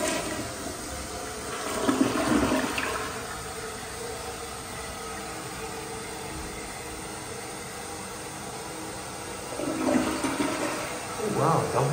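Walmart restroom toilet flushing with a double siphon: a loud, continuous rushing water roar with two distinct gurgling surges, one early and one near the end, close and echoing.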